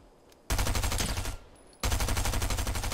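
Automatic gunfire in a shooter video game, two sustained rapid bursts of loud close shots separated by a short pause.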